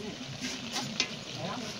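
Goat leg meat sautéed in a pan during slow frying: a soft, continuous sizzle with a brief scrape or click from stirring, quiet and close, lasting under two seconds.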